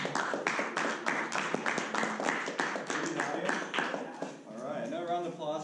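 A Toastmasters club audience gives a round of applause for a speaker, rapid individual claps close by that run throughout and thin out near the end.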